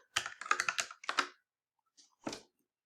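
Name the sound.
typing on a computer keyboard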